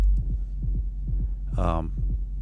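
A techno track set to hard mode, with heavy compression, distortion and a bottom boost, pumps out a steady, thudding kick pattern with a brief bright burst partway through, loud and without any voices.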